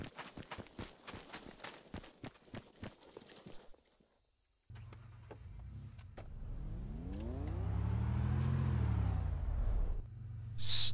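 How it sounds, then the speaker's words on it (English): A vehicle approaching a roadblock in ArmA II: after a run of footstep-like clicks and a brief hush, an engine rumble fades in and swells steadily louder as it nears, ending in a sharp burst. "Vehicle, vehicle. Vehicle incoming."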